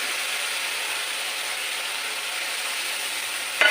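Tomato paste hitting a hot pan while cooking a jackfruit curry gives a loud, steady, even sizzle that holds throughout, with a small clatter at the very end.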